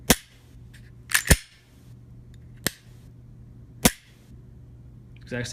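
Several sharp, crisp mechanical clicks of a Glock 43 pistol trigger being pulled and released, some in quick pairs, spaced across a quiet background with a low steady hum.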